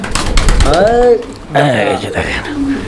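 Toy Lahori pigeons give a couple of close, throaty coos, with someone talking loudly over and around them.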